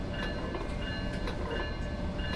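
A MARC Penn Line passenger train running in Train Simulator 2021, a steady low rumble with faint rhythmic rail clatter and a thin tonal whine, continuous and moderately quiet with no talk.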